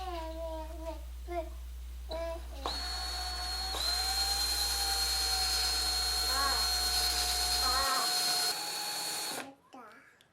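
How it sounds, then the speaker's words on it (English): A wooden ring made from a wood shaving, friction-fitted on the end of a dowel and spun by a power tool for sanding, giving a steady high whine that runs for several seconds after brief talk and then cuts off. "trying to fit the ring on the end of this dowel so that I can sand the outside"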